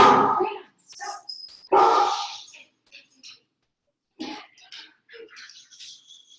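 A pet dog barks at home as groceries arrive, a couple of loud sharp barks near the start and middle, with someone talking between them.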